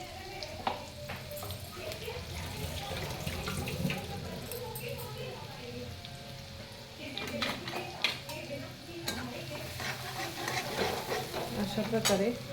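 Green chili and garlic paste sizzling in hot oil, a moderate frying hiss mixed with stirring scrapes and a background of running water, with voices talking over parts of it.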